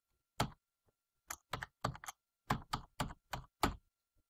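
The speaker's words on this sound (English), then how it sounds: "when I press a key on the keyboard" Keyboard keys clack in a quick irregular series of about ten crisp presses, close and isolated against silence.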